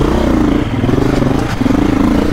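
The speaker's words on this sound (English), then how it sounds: "Four-stroke, see, they stall." A four-stroke 2024 KTM dirt bike engine runs with a loud, rough, pulsing idle that falters and sags briefly midway, close up and alone.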